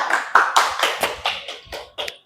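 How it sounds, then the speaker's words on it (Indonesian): A small classroom group claps after a freezing-point-depression lab that made hand-churned ice cream, giving a few close, sharp irregular claps that taper off into silence. "Tepuk tangan dulu"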